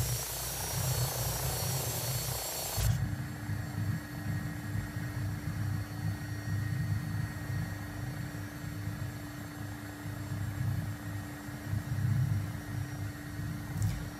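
Rotor thump and turbine whine from an AW109SP helicopter engine in the X-Plane 12 flight simulator, a steady loud drone with pulsing low beat throughout, a brighter burst at the start before settling into constant cruise.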